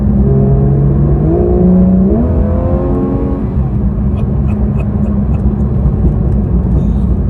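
A Porsche 911 GT3 RS engine runs with its active exhaust open, rising in pitch through the revs as the car accelerates, loud and close, then settling into a steady drone.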